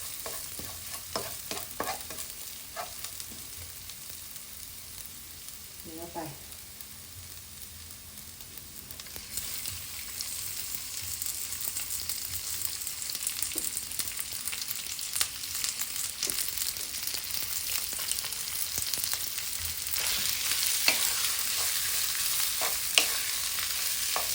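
Beef kaphrao with salted fish sizzles and is stirred in a pan, a steady frying hiss broken by scraping and clinking spatula strokes, growing louder and brighter over time with no talking.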